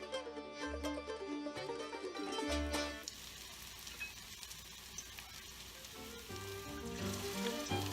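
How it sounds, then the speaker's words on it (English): Potato latkes fry in a crowded pan of hot oil with a steady, dense sizzle, running continuously beneath prominent background music. "Okay, taste test is done and we are ready to fry."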